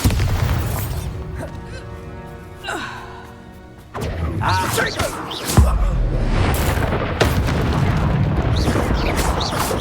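In Hogwarts Legacy a Bombarda spell goes off in a booming explosion, with a loud burst midway followed by rumbling debris and continued crackling game effects, alongside breathy vocal sounds.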